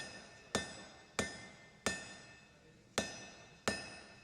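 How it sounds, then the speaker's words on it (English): A blacksmith hammers hot steel to draw out a taper, five sharp ringing metallic strikes at an even, unhurried pace, each blow leaving a bright decaying ring. "continuing to draw out the steel into our taper, still using quite forceful downward and forward blows"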